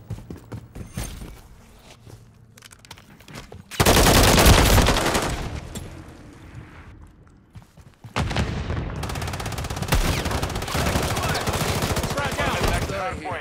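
Automatic gunfire rattles in Call of Duty: Modern Warfare III Hardpoint on the Airborne map. Two loud, sustained bursts of rapid shots are separated by quieter stretches of clicks and footsteps, and the second burst runs until the end.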